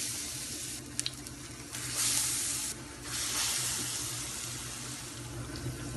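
Chana daal fries in desi ghee over low heat with a continuous soft sizzle and hiss, swelling in a few brief louder surges, close and with no talking.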